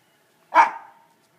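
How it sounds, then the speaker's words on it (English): One sharp dog bark, close and loud, with a short trailing echo and silence around it. "Who are you barking at?"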